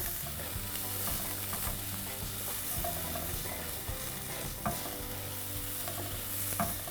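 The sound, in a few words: stirring chili and spices frying in a pan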